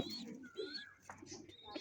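Pigeons coo softly in a loft, with low murmuring calls and a few faint chirps and rustles, quiet and close.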